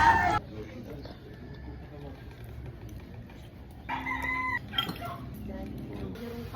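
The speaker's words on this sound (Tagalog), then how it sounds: "may manok dito guys." Chickens at an outdoor spot make scattered clucks and a short crowing call among chatter, the bird sounds moderately close, with people talking throughout.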